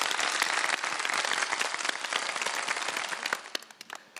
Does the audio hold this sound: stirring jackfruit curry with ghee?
no